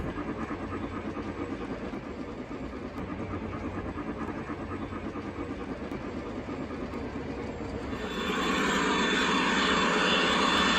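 A model railroad train runs on a Christmas layout past a junkyard and industrial area, a steady rolling rumble that swells louder and brighter near the end as it draws close.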